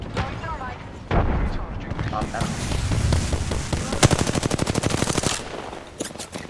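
Gunfire in a video game: scattered shots at first, then a fast, loud automatic burst with evenly spaced rounds, followed by a few final shots, under excited talk.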